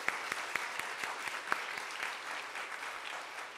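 A church congregation applauds its choir in a brief, fairly moderate round of clapping with a few sharper individual claps standing out, with no talk over it.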